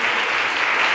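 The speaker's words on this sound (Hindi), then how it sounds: "उधर आने के लिए हम जोरदार ताली देंगे।" Church congregation clapping loudly and steadily, a dense wash of applause from many hands filling the room without a break.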